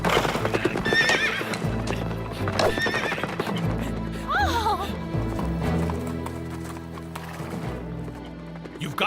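A horse trots with steady clip-clop hooves and lets out several loud whinnies and neighs, with voices briefly calling out during a riding competition.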